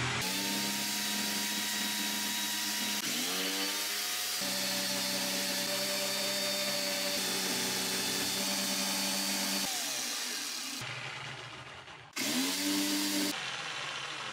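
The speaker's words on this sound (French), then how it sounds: "une scie sauteuse" A power jigsaw cuts through padauk wood in a long, continuous buzzing whine with shifting pitch as the blade works, stopping briefly before restarting; loud and close with no voices.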